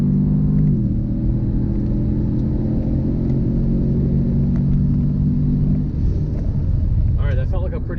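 A car accelerates hard during a data-logged pull, its engine a loud, steady rumble that changes character near the end as a voice talks over it.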